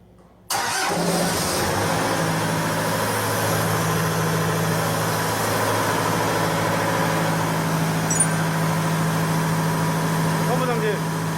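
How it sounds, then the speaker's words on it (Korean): An engine-driven pump starting for a pump performance test: after brief quiet the engine catches abruptly, then runs at a steady loud idle with a droning hum for the rest of the stretch. "이렇게 하고 엔진 펌프를 한번 돌려보겠습니다."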